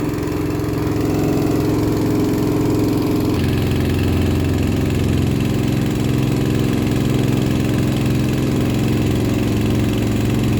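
A water pump engine drains a rice field, a loud, steady idling drone with a deep thrum. It holds alone and unbroken throughout, thickening slightly a few seconds in.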